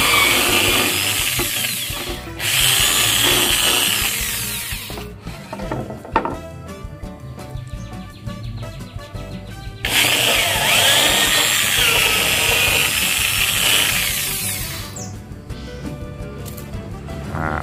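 Power drill boring bolt holes in wood, two long loud whining bursts separated by quieter stretches of tool handling and clicking, with no talk.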